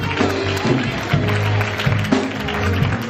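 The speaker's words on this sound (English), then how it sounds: "Let's give God a round of applause" A church congregation claps in a round of applause for God, a steady broadband patter running through the clip with a low tonal hum underneath.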